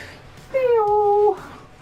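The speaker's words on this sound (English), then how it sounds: "kitty. Meow to you too." A single clear cat meow, close and fairly loud, rising then sliding down over about a second, heard on its own.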